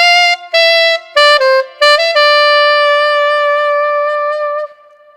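An alto saxophone plays the opening line of a song's solo: a run of clear, sustained notes with short gaps, moving up and down before settling on a long held tone that fades out.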